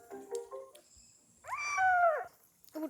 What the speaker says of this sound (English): And they had a cat that was very shy.